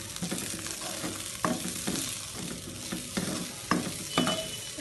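Coriander leaves frying in a pan for tomato chutney, with a steady close sizzle broken by repeated sharp scrapes and taps of a stirring spoon against the pan.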